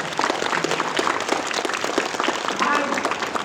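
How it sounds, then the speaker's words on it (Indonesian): A crowd at a school flag ceremony breaks into applause, a busy patter of many hands clapping at once, fairly loud and steady, with voices mixed faintly underneath. "Tepuk tangan dulu untuk mereka"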